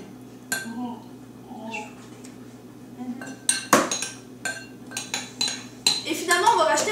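Utensils clink and scrape against a bowl while ingredients are mixed in a home kitchen, with irregular close taps and knocks that grow busier toward the end.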